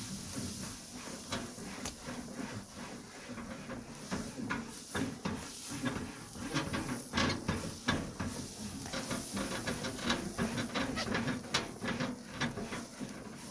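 A grill cleaning brush scrubs metal grill grates with rapid back-and-forth strokes, a steady scratchy rasp with sharp bristly bursts running throughout at close range, no voices.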